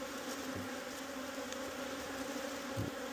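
Honeybees buzz steadily around a temporary hive box in an apiary, a close, continuous drone with a few faint bumps and knocks and no talking.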